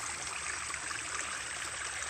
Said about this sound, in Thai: ตอนนี้ก็เป็นช่วงน้ำไหลหลากนะครับผม